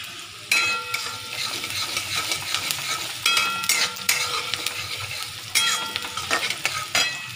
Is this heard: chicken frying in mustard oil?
yes